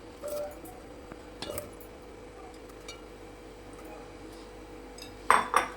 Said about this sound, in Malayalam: ഇനി അരിഞ്ഞു വെച്ച ഉരുളക്കിഴങ്ങ് കലത്തിലിട്ട് ഇടുക